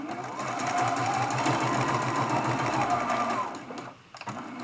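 Sewing machine back stitching a Churn Dash quilt block ornament, a loud rapid mechanical whirr running steadily for several seconds, then stopping abruptly with a few soft clicks.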